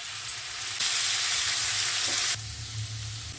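Thinly cut bottle gourd peel frying in a pan over medium-high heat, a close steady sizzle that swells loudly for a stretch mid-clip, then settles back with low pan rumble, no talking.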